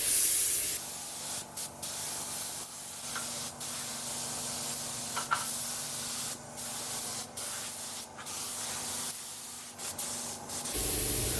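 Primer is sprayed onto a truck in long continuous hissing passes with brief breaks between strokes, loud and close throughout.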